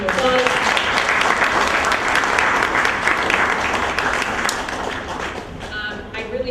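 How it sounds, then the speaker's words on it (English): A crowd applauds veterans at a community recognition event, with dense, sustained clapping that fills the room, staying loud before easing slightly toward the end. "So let's give them a round of applause."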